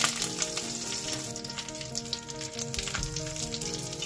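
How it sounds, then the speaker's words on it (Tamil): Mustard seeds and dried chillies fry in hot oil, giving a steady crackling sizzle with sharp pops scattered throughout, close and moderately loud with no voices. "தேவையான அளவு கடுகு போட்டதுன்னு கொஞ்சம் காஞ்ச மிளகாய் போட்டு அதை எப்படி கொஞ்சம் வதக்கிக்கணும்"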